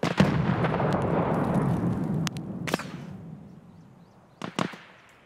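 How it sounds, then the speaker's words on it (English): Grenade explosions in the game Escape From Tarkov: a dense rumbling blast that slowly fades over several seconds, then two sharp, fairly close bangs near the end, with no talk. "Are they throwing nades over the wall?"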